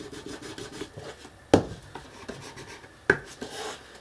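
Wooden sides of a French country portal base are rubbed for burnishing, giving soft, steady scraping strokes close by, with two sharp knocks standing out in a short, quiet stretch.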